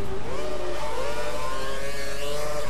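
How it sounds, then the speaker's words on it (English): A McLaren Formula 1 car in the F1 2012 racing game screams past with a high revving engine whine that shifts in pitch, over a steady rumble of other cars on track. "The McLaren flies past."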